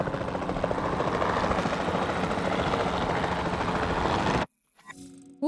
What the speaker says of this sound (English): We're in a helicopter.